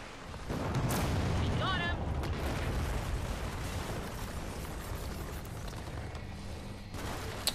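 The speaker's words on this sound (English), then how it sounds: "Airstrike!" Airstrike explosions and heavy weapon fire in the video game Gears of War 4, a loud sustained barrage of booms and rumbling blasts filling the whole stretch, with a brief high whine early on.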